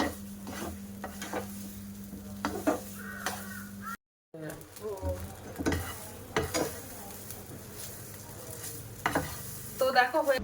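A sweet bread-and-powder mixture cooks in ghee in a frying pan, giving a low sizzle with intermittent spatula scrapes and stirring, cut by a brief dropout, with crows cawing faintly outdoors.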